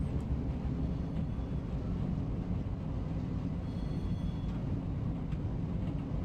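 A GE P42 diesel locomotive runs steadily in the train simulator Run8, giving a continuous low engine rumble with broadband rail noise that holds at constant loudness and has no voices over it.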